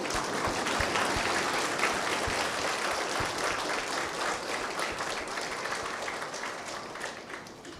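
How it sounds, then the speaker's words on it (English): Election-event audience on its feet giving a sustained round of applause, a dense wash of many hands clapping that holds steady and slowly tapers. "can we all get up and give them a big round of applause?"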